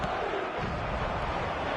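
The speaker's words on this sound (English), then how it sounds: "the crowd are reacting to that now" A stadium crowd in an eFootball match between Madrid and Arsenal roars and murmurs steadily, a dense, continuous wash of cheering voices.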